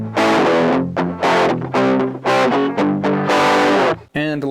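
Electric guitar through a Temu Cube Baby multi-effect pedal on a distortion model rings out in loud, sustained chords struck in a steady rhythmic pattern, with a brief pause before a final strum.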